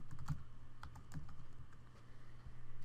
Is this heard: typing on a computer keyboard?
yes